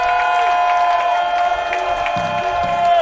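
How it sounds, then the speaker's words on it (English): Homecoming crowd filling packed stands at a varsity football game, Carlisle vs Gilbert: a loud, continuous mass of cheering with a steady high tone running through it and a few brief voices near the end. "Good homecoming crowd here. Packed stands on the Gilbert sidelines."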